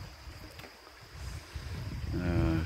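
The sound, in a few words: wind blowing on a hilltop hiking trail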